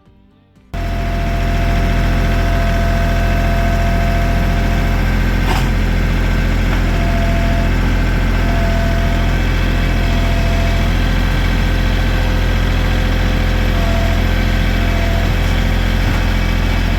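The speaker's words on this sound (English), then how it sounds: "I'm going to grab the tractor and we'll fill it" A tractor engine runs steadily and loudly at close range after a brief quiet start, with a constant low rumble and no talk, in a setting where a hugelkultur raised bed is being built and filled with soil.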